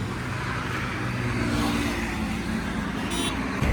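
A Mahindra Scorpio drives along the road with a steady engine drone and rolling tyre noise, close and continuous. No one speaks.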